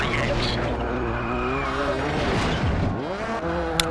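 A rally car in the WRC: Rally Evolved video game skids on a Costa Daurada stage, engine droning and shifting pitch as tyres scrub and squeal, with a player talking over the game sound.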